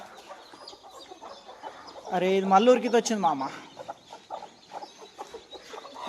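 Hens cluck repeatedly near a person handling native country chickens, with a burst of loud clucking in the middle; someone talks over the birds.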